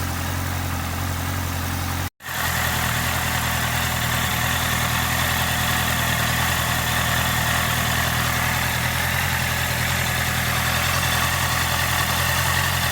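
A rebuilt Honda CB650R motorcycle engine idles steadily with coolant freshly added, a constant low droning hum with a brief dropout near the start, then an even, unbroken running tone.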